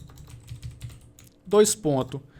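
Soft, rapid clicks of typing on a computer keyboard are close and quiet, then a brief voiced sound rises over the keys near the end.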